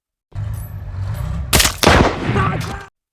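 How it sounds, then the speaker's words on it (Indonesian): Automatic weapons fire in a war film battle between Nazi troops and a tank crew, a sustained loud crackle of shots with heavy bursts and booming impacts near the middle, close and dense. "Suara senjata otomatis memecah udara."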